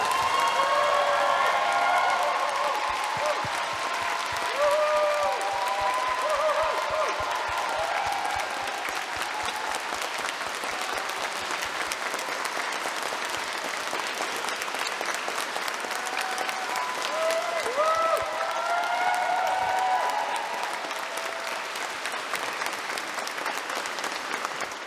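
Long, sustained applause from a large audience filling a church after a choir concert, dense clapping with a few scattered cheers and whistles rising over it, steady for the whole stretch before easing slightly at the end.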